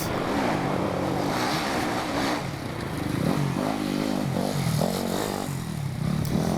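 A Yamaha YZ250F enduro motorcycle at a national enduro race in Westpoint, Tennessee, lugs its engine in a tall gear. It makes a steady, low, labouring drone that rises and falls slightly and carries on throughout without a break.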